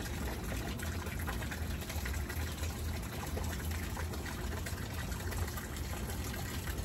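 Steady flowing water runs continuously at a moderate level, a constant broadband rush with no pauses and no voices.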